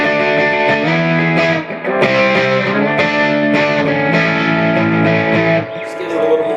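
Electric guitar played through a Vox AC50cp2 amp with the bright switch on, loud distorted chords and riffs ringing out in steady strums with a brief pause, no talking.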